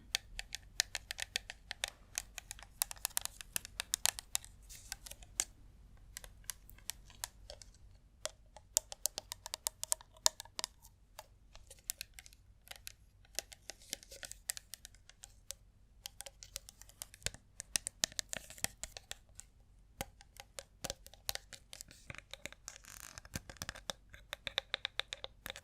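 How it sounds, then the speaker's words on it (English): Fingers tapping on a plastic surface as an ASMR trigger: quiet, close, rapid irregular clicks in bursts with short pauses, dry and crisp. "The last material is plastic tapping."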